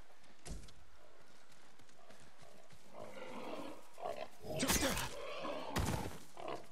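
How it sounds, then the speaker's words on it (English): Wild pigs being fought in the video game Ghost of Tsushima: sharp game impacts and crunching hits, with a loud burst near the end over a low background of game ambience. "I gotta fight some wild pigs now"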